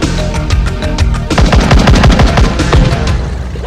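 Rapid bursts of machine gun fire from a ship rattle out loudly as warning shots, a short volley followed by a longer sustained stream of closely spaced shots.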